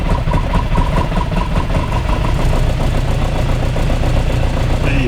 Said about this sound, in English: The engine will stutter no matter what.